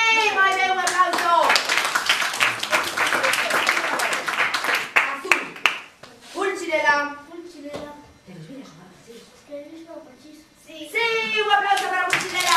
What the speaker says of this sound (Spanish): ¡Moi ben, un aplauso!